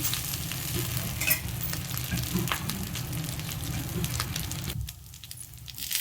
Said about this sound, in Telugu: మునగాకైతే బాగా వేగిపోయింది